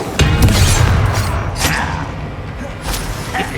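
A Confringo fire spell blast in the Hogwarts Legacy video game, a loud booming impact with rumbling low thuds and crackling bursts, followed by a couple of sharper hits, with faint voices in the game mix.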